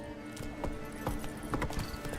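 Roach, the horse in The Witcher 3, clip-clops along at a walking pace, each hoof strike a sharp, distinct knock in an irregular rhythm, fairly quiet and with no voices over it.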